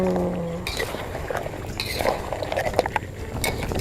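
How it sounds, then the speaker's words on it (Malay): Metal utensil scraping and clinking in a wok as seafood sambal with prawns and squid is stirred, with a soft sizzle underneath; irregular stirring strokes, close up. "Kita kacau sehingga sebati"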